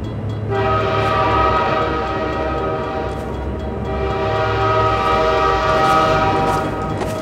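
A train rolls past in Half-Life 2, a loud continuous rumble with layered horn-like tones sustained throughout and swelling slightly toward the end.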